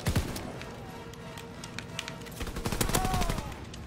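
Rapid bursts of machine pistol fire from the World War II shooter game Call of Duty: WWII, loud and close, with dense repeated shots through most of the stretch and a busy battle mix behind.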